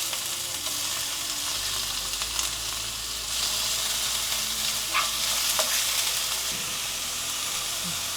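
Chopped garlic and onion fry in hot oil at the start of a tilapia fish curry, a dense, continuous crackling sizzle held close and loud for the whole stretch, with no voices over it.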